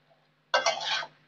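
Elephant foot yam stir-frying in a pan: one brief scraping stir of the spatula with a light sizzle, close and alone after near silence.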